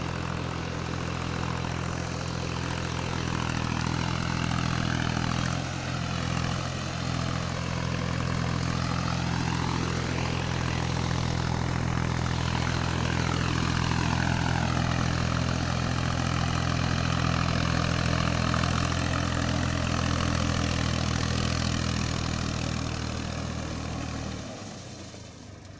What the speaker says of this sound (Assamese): ইয়াত এখন আকৌ আহি গ'ল ট্ৰেক্টৰখন নিজৰ